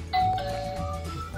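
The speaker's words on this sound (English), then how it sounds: "she walks to the front door and she rings the bell." A front doorbell sounds a quick two-tone ding-dong chime at a house, clear and close with a short fading ring.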